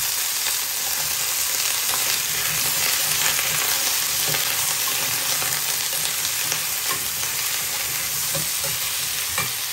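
Vegetables with fried chopped onion stir-fry in a hot pan, a loud, steady sizzle broken by frequent scrapes and stirs, with no talking.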